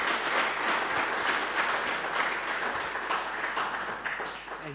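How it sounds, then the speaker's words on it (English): An audience at a church mission-resources session applauds, a dense, sustained wash of many hands clapping at steady loudness, slowly thinning toward the end. "Let's clap for these people."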